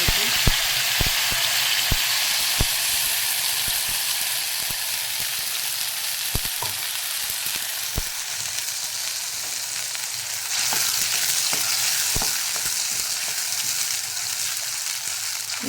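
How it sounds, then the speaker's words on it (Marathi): Spinach puree fries over cumin in a pan with a constant bright sizzle and hiss, punctuated by sharp spoon taps against the pan at irregular intervals, close up and steady throughout. "चांगलं फ्राय करून घेणार मी"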